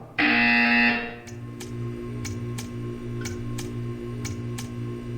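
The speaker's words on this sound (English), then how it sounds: "You will hear a buzzer. When you hear the buzzer, stare at the art." A loud electronic buzzer in the Portal 2 video game sounds once for about a second, followed by a steady hum and a regular ticking pulse repeating roughly every half second.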